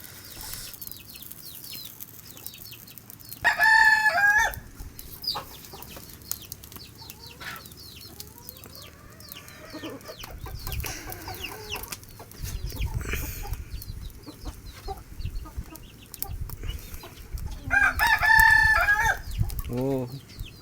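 A rooster crows loudly and close by, two full calls well apart, amid clucking fowl and a low, murmuring rural background.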